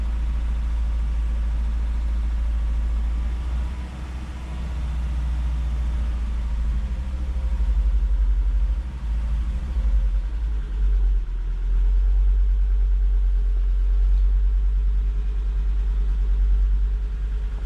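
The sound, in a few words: Volvo 2.4 non-turbo petrol engine idling with a misfire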